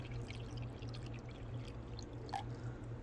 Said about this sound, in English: I'm going to top off some water dishes